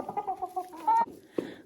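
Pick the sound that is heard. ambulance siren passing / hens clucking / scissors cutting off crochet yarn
hens clucking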